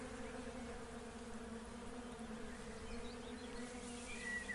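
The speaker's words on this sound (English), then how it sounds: "see solid streams of bees flying in straight lines" A swarm of bees flies across a quiet meadow as part of a Legend of Zelda sleep story set in Hateno Village, with a steady, soft, continuous buzzing drone and no voices.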